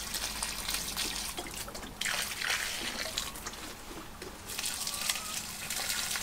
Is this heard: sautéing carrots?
no